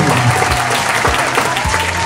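Clapping from a youth group gathering, a loud, close, continuous wash of applause lasting a couple of seconds, with low thumping sounds beneath it.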